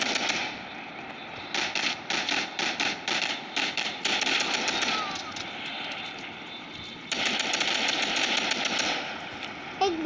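Rapid automatic gunfire from a video game set in gangster-era New Orleans, rattling in quick bursts with brief gaps, then a second sustained volley, loud and close.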